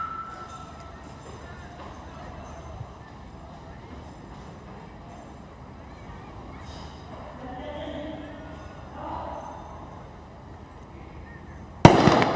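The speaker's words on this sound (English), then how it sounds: "There goes the first shot, and it's a hit as well." A single sharp gunshot cracks out close and loud near the end of the stretch at a military shooting competition in Dubai, after a long spell of quiet outdoor ambience with faint background murmur.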